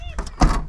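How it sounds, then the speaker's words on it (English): A Subaru Outback trunk lid swings shut with one solid thunk after some light rustling, close and fairly loud. "Hey Alex, shoot, close the trunk."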